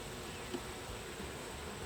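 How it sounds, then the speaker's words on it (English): Honeybees fanning their wings in an opened nuc hive make a steady, close buzzing hum with no voices. "a lot of these bees here are actually fanning their wings"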